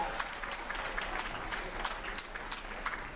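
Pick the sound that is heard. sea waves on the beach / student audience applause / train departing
student audience applause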